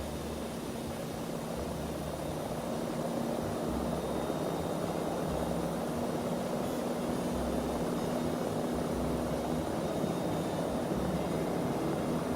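Aircraft engines with thrust reversers deployed in a flight simulator game give a constant, even roar with a steady hum underneath, unchanging for the whole stretch and with no voices.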